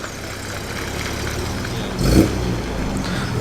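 A classic MGB's 1800cc B-series engine runs at a breakfast car meet, a steady mid-pitched idle with a short louder blip of revs partway through, set among outdoor crowd ambience.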